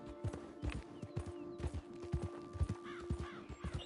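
Horse hooves clip-clop steadily along in Red Dead Redemption 2, a regular trotting rhythm of fairly quiet hoofbeats with faint game ambience and a few distant whinny-like tones near the end.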